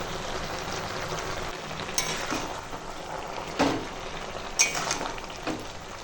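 A pot of curry with greens, amaranth stalks and fried bitter fish roe simmers quietly, a faint steady bubbling sizzle with a few soft utensil clinks.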